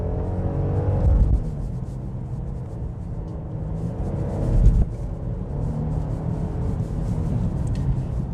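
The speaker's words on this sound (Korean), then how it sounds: "다시 한번 가속을 해볼게요. 스포츠 모드고요." A Genesis GV80 3.5 SUV accelerates hard in sport mode, its engine heard from inside as a deep rumble rising in pitch through two surges with a brief shift in between.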